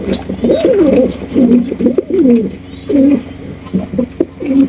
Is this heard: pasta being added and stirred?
no